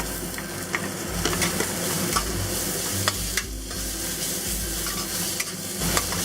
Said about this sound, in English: Add the ginger and garlic and the peppers.